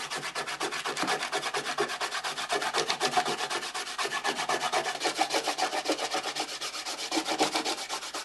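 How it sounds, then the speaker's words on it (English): Fingers rubbing dried paint off a painted landscape surface, a continuous close scratchy rubbing with quick rhythmic back-and-forth strokes, moderately loud and alone. "So rub with your fingers and it just peels off."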